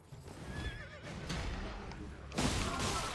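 A horse whinnies over the clatter of hooves in Elden Ring, with a sudden burst of noisy combat action near the end; game effects, moderately loud.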